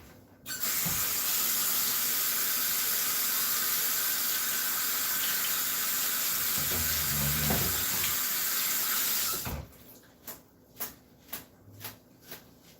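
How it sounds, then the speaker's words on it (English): A plastic bag is rinsed under a running kitchen tap after apple cider pressing, with a steady loud rush of water that stops suddenly, followed by a few soft rhythmic sloshes and drips. "I'm going to rinse this bag out really quick"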